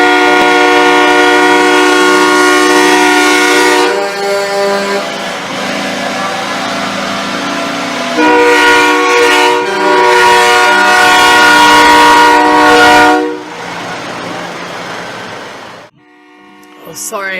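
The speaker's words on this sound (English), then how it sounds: "Oh, sorry, this honking." A passing train sounds a long, loud, sustained horn blast that holds for many seconds, breaking off and resuming. The tone ends in a brief different chime, with rumbling rail noise underneath.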